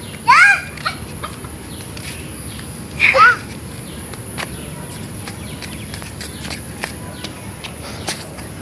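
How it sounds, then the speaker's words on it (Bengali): Two short bursts of chicken clucking, close by, separated by a few seconds of quiet outdoor background with faint rustling. "এই যে এটা আমাদের মুরগি"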